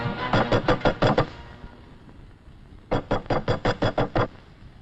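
Two quick bursts of knocking on a door, about six or seven loud, close raps in each, separated by a short quiet gap.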